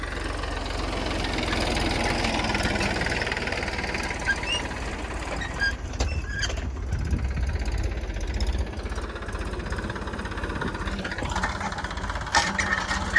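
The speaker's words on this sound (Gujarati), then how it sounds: "તો અત્યારે મિત્રો ટ્રેક્ટર હાલે છે" A tractor engine runs steadily in a farm field, a continuous low rumbling drone with some clattering vibration throughout and no talking.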